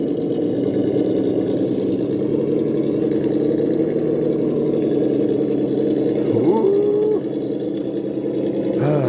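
Electric motor of a Traxxas TRX4 RC crawler with the throttle held steady: a continuous, close, buzzing whine at a constant pitch, with a brief upward pitch sweep near the end.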